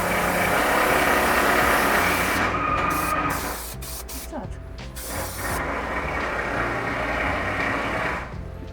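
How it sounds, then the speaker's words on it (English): Busy working construction site near a van being carpet-lined, with machinery clattering, an engine idling and ratcheting mechanical noise running steadily throughout, briefly thinning midway before rising again. "Do excuse the noise, this is a working site."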